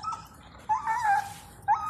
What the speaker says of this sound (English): what is that, a dog?